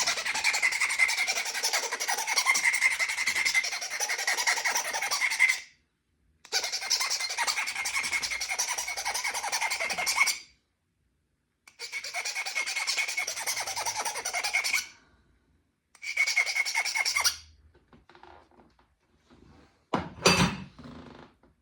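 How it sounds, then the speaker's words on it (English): Obsidian point being sharpened by flintknapping, a loud, continuous rasping scrape repeated in four long strokes of several seconds each, separated by short pauses, then a brief sharp tapping at the end. "So now we just take this, just gotta sharpen up my point."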